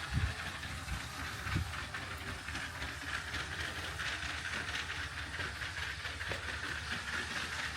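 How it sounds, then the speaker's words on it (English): A LEGO City toy train runs around its track, a soft continuous rumble and clatter of wheels with a faint hiss, steady and fairly quiet throughout. "So we just turned the train on, so let's send her around."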